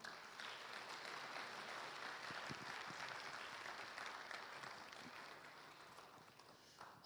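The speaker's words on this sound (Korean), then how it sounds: "우리 최윤규 소장님 나오실 때 우리 힘차게 박수로 환영하겠습니다" An audience at a university forum applauds to welcome a lecturer, a steady wash of dense clapping from a roomful of people that holds for several seconds and slowly fades near the end.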